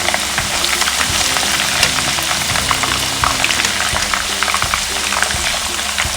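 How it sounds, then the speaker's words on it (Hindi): Masala for chicken tikka biryani fries on low heat in a pan, a steady close sizzle with dense crackling pops throughout, no talk. "इसको धीमी आंच में थोड़ा मसाला फ्राई कर लेते हैं।"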